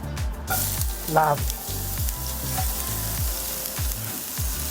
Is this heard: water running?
no